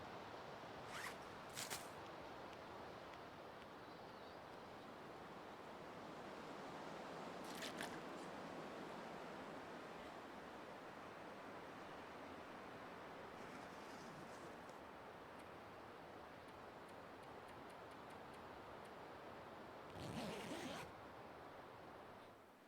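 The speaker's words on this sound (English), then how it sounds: "I like the zipper sound." Zippers rasp in The Long Dark in a few short, bright bursts over a constant bed of loud wind-like noise, with one longer zip near the end and no talking.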